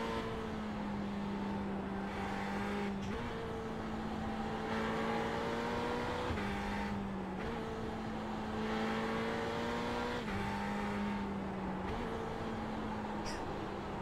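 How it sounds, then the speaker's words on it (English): A Ferrari GT3 race car in iRacing drones steadily near and loud, its engine note rising through each gear and dropping at every shift, several cycles over a continuous racing roar. "This is an iRacing Ferrari GT3 series."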